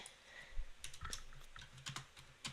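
Quiet typing on a computer keyboard, a steady patter of soft key clicks with a few sharper taps, with no talk over it.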